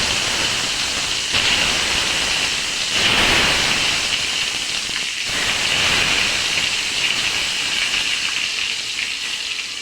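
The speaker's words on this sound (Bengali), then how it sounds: "তো আমি সাইডে ফার্স্টে মিষ্টি কুমড়াগুলো ভেজে নিচ্ছি।" Pumpkin pieces fry in hot oil in a karahi, giving a loud, steady hiss and rushing sizzle close up, swelling briefly a few times, with no talking.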